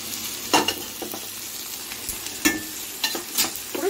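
Garlic and amaranth leaves frying in a hot pan, a continuous soft sizzle with intermittent louder stirring scrapes and taps, close up with no talking.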